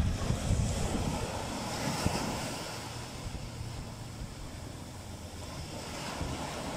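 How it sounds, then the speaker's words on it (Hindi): Large sea waves roll and break at Manora Beach in Karachi, a continuous broad wash of surf mixed with wind buffeting the microphone, fairly distant and steady with no voices. "देखो बड़ी बड़ी लहरें"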